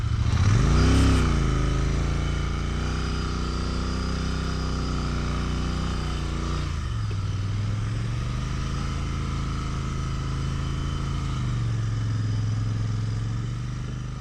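Royal Enfield Interceptor 650 motorcycle ridden at night on deep sandy high-altitude roads near Sarchu, Ladakh; a steady, loud engine drone carries throughout, with a rev swell near the start and pitch dips as the rider shifts or slows.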